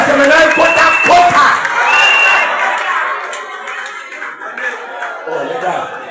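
Wedding guests at a Gabonese celebration cheer and clap in a noisy crowd, bright shouts and applause loud at first, then easing into chatter with voices talking throughout.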